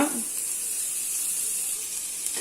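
Onion and capsicum sautéing in a pan with cumin for pav bhaji give a steady, close hiss of sizzling oil that runs unbroken and fairly quiet, with no talking.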